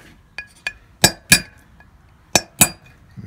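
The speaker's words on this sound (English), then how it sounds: "And we should hear it plink out. There it goes, that easy." Metallic clinks ring out as a punch is driven against a wheel bearing race in a VW Beetle front hub: a few light taps, then four sharp, louder hammer strikes in two pairs, up close with no talking.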